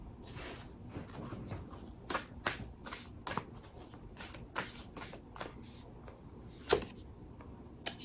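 Oracle cards from the Sacred Forest Oracle deck are shuffled in a steady series of crisp riffling bursts and soft slaps, close and fairly quiet, with no talking.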